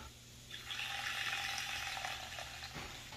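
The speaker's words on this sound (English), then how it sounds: "Handy mixer." A handheld electric mixer whirs steadily through an eggnog drink made with Crown Royal Salted Caramel, a continuous close buzzing that starts after half a second and runs to the end without talk.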